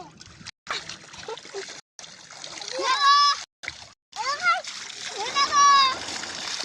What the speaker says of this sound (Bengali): আনাস এখন পানি দিচ্ছে, নিজের বাসায় নিজেই পানি দিচ্ছে।